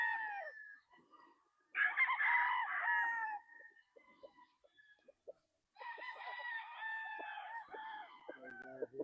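Gamefowl roosters at a game farm crow in two loud, drawn-out bursts separated by a short pause, with softer clucking in between and quiet background sounds.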